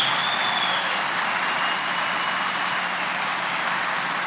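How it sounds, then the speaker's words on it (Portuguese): A church congregation applauds a couple loudly and continuously, a dense wash of clapping that stays strong and even throughout, with a faint high whistle-like tone early on. "eu queria que vocês aplaudissem de verdade esse casal com toda a força"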